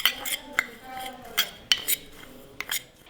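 Ground spices like turmeric, cumin, coriander powder and fennel being mixed with a spoon in a small bowl, producing light metallic clinks and scrapes at irregular intervals, close and quiet.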